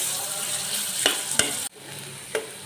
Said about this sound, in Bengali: পেঁয়াজ আমি তেল দিয়ে দিচ্ছি, পেঁয়াজটা এখন ভাজবো আস্তে আস্তে